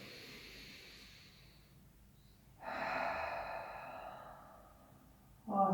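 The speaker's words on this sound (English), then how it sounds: "So big breath in and exhale." A deep breath in and a slow exhale during a morning yoga class, soft airy breathing that swells midway and ends with a louder breath, with no talking.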